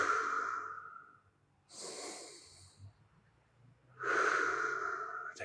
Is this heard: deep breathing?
yes